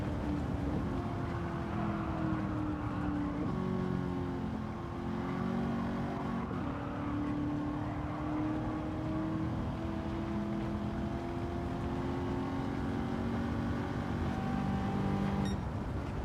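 Racing car engine in Gran Turismo 7 during a licence test, held in fifth gear while the car slides: a steady, droning engine note with wavering, rising and falling pitch, heard alone and fairly quiet.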